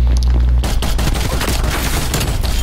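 Rapid, loud gunfire from a DMR-14 rifle in Call of Duty: Black Ops Cold War, a dense run of sharp shots packed close together after a brief quiet lead-in, with no talking.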